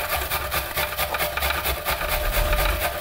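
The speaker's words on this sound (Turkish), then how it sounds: "1 adet ufak boy, çok büyük olmayan kuru soğanımızı rendeliyoruz" A small dry onion rubbed on a grater, giving a steady, close rasping scrape with regular back-and-forth strokes throughout, with no talking.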